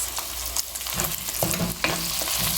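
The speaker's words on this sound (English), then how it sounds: "I'm adding the chopped tomatoes" Chopped tomatoes are added to a Tamil pepper garlic curry that is frying in a pan, with loud continuous sizzling and some clattering stirring and scraping up close.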